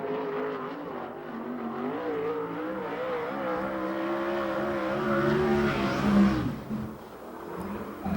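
Sprint car engines roar around the Perris oval during a USAC/CRA race, a loud continuous snarl with pitch rising and falling as cars accelerate and pass, building toward a peak before easing off.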